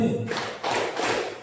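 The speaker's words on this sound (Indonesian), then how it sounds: "ketika ada kata selamat, tepuk tangan" A group clapping hands in a classroom activity: a few quick bursts of applause in a row, moderately loud and close, with faint voices around.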